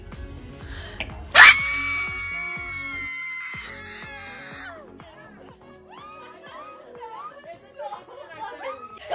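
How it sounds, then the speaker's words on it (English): A group of people scream loudly together at a birthday surprise as a knife hits the cake plate, a sharp burst of voices that trails off into chatter and laughter. "when the knife hits the plate, we scream"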